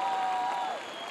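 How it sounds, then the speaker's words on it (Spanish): Applause from a large audience at the Viña del Mar festival concert, a brief dense wash of clapping and crowd noise with a faint tone running underneath. "Un aplauso fuerte para recibirla"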